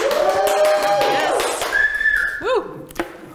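Loud shrill whistles from a crowd, rising and falling tones overlapping with cheering noise at a Dutch pub quiz show, close and continuous.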